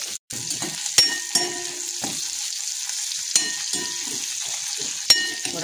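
Crushed garlic frying in a pan for a homemade sag mung dish, with a continuous crackling sizzle broken by several sharp utensil knocks and stirring scrapes, close and fairly loud.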